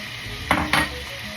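Garlic hits hot oil in a large wok-style pan for pork adobo, two quick bursts of sizzle and metal clatter from utensils over a quiet hiss, close by, with no one talking.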